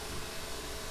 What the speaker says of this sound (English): you're gonna have to excuse me because the dryer just, basically just started